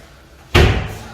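A single sharp slam as a metal-fitted kitchen drawer under the sink is pushed shut in a newly built villa apartment, with a short ringing decay and nothing else around it.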